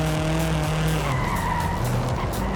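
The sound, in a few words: car braking and tires skidding in the video game Forza Horizon 5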